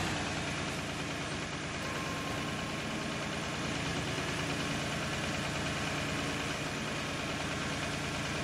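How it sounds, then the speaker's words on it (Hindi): Tractor engine idling under no load in the Farming Simulator 22 game, a steady, even mid-low rumble that stays level and unchanged throughout with no voices. "अगर लोड पड़ रहा था तो उसके इंजन की आवाज़ थोड़ी सी चेंज हो जाती, बट बिल्कुल चेंज नहीं हुई है"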